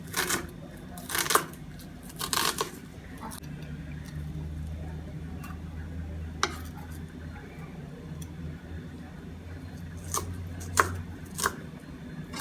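A knife chopping an onion on a board for beef lasagna, scattered close taps in short bursts over a low steady hum, fairly quiet, with no speech.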